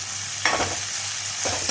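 Finely chopped tomatoes fry in a pan with a steady bright sizzle, broken twice by louder scraping stirs of a spatula; close and continuous, with no voices.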